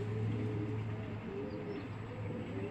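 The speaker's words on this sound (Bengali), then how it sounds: "দেখেন হেভি শক্তিশালী একটা কবুতর।" A large male racing pigeon coos softly nearby, a low, steady murmuring call that carries on without a break and without any voices.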